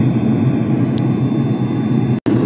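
Steady, loud jet engine roar of an airliner on the runway at takeoff in TFS Flight Simulator, a continuous low rumble with a sustained high whine, close and unbroken.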